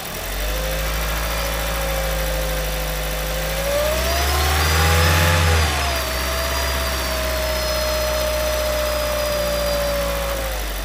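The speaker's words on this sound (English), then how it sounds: "Engine's running smoothly." A Toyota Prius engine runs steadily up close for about eleven seconds, a smooth mid-pitched hum with a whining tone that swells briefly around the middle before settling back to an even idle.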